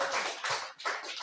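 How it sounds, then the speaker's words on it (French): An audience claps together in a hall, a dense burst of applause rising and falling in two quick waves, loud and close, with no talk over it. "Applaudissez"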